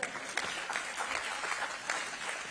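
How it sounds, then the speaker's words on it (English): Steady applause from a crowd fills the space, dense clapping with a few louder bursts, continuous throughout. "you can clap for that too"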